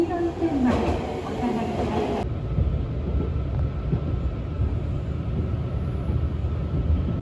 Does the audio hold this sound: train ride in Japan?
yes